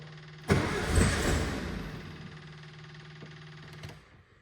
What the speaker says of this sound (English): sounds like it's trying to hydrolock with a lot of fuel in the cylinders